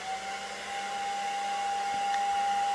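Heat gun blowing hot air onto vinyl wrap on Honda Prelude taillights, a steady close airy roar with a thin constant whine on top, continuous and unbroken.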